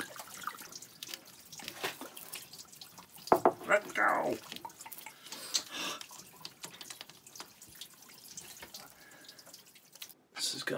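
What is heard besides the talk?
fresh water draining from boat cooling system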